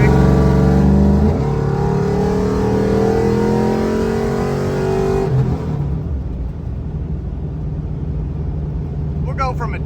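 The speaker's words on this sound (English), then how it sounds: "Twisty turns, give her a little throttle out of the turns" A car accelerates out of turns on twisty back roads, its engine rising in pitch then dropping off as the throttle eases, with someone talking over the engine noise.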